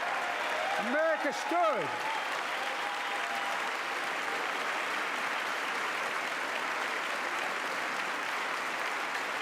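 A large chamber audience applauds during a State of the Union address, a broad sustained wash of clapping that continues evenly throughout, with a brief spoken phrase heard over it at the start.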